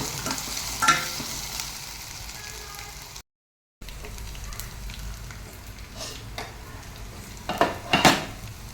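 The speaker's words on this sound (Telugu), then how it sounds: "ఇవన్నీ కలిపి కొంచెం వేగనివ్వాలి ఒక 5 నిమిషాలు." Ginger garlic paste fries in a pan for a plantain fry, giving a steady close sizzle with occasional stirring scrapes and utensil clinks; there is a brief gap of silence partway through.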